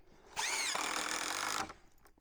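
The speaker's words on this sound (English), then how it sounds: "I drilled them out again just to make sure I wouldn't split that piece of wood" A power drill boring a hole in old picnic table wood, a steady whining burst lasting just over a second with the motor pitch dipping slightly as it bites.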